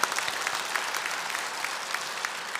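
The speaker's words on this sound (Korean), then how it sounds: "귀한 말씀 전해주신 윤성호 목사님께 감사의 박수 올려드리겠습니다" A church congregation claps steadily in thanks after a pastor's sermon, a dense, even wash of applause filling the room without a break.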